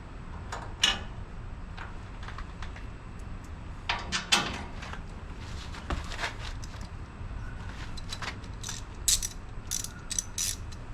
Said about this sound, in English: the bolt will go through, tighten it up with a couple washers on each side